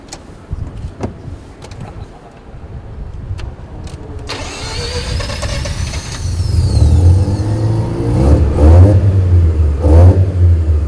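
A Mazda RX7 engine idles roughly, then climbs into a sustained rev that builds louder and holds with wavering pitch, close and dominant with no talk over it.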